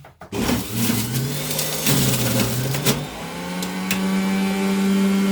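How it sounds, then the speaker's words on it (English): A juicer motor whirs loudly and steadily, its pitch shifting and rising slightly as apples are fed in, with crunching grinding noises over the hum. "I don't think it's that loud for a juicer"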